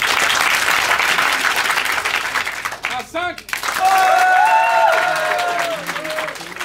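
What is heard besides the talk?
audience applause and cheering voting at an improv show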